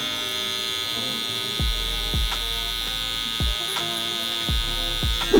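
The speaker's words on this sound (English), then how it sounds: "Use my other trimmer now." A hair trimmer buzzes steadily while cutting a low taper in a barbershop, its close, constant electric drone broken by several soft rhythmic strokes.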